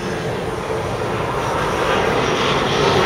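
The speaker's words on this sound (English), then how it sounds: "there goes a jet plane" A jet plane passes overhead as a steady, loud broadband roar that builds gradually over a few seconds, with no voices present.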